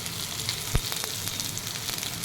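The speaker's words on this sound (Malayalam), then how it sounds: "ഇഞ്ചി, പച്ചമുളക്, സവാള അരിഞ്ഞു വെച്ചത്, വെളുത്തുള്ളി ഇതെല്ലാം കൂടി ഇട്ട് നമുക്കതൊന്ന് വഴറ്റിയെടുക്കാം" Ginger, green chilli, sliced onion and garlic sautéing in an iron kadai for Kerala-style chicken curry, a steady close sizzle with a soft knock and light stirring, no talk.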